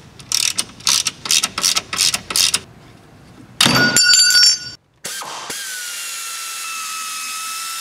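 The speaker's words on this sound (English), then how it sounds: "you'll need a 13mm deep socket to remove these two nuts that are holding this in" A socket wrench ratchets in a quick series of sharp clicking bursts while removing nuts on an Audi VW 2.8L DOHC engine during oil pan work, followed by metallic clatter and a steady ringing hum.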